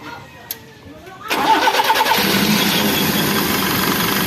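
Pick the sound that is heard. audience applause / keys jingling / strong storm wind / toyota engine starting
toyota engine starting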